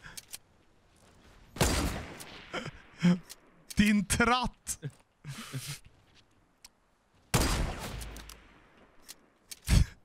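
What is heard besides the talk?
gunshots in Fortnite video game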